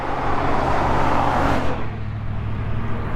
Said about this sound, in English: Got another car coming.